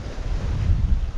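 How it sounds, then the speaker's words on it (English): Big sea waves rolling onto a UK beach at night as the swell holds, a continuous loud low roar of surf mixed with heavy wind buffeting the microphone, no voices. "Got some big waves coming, you can see them."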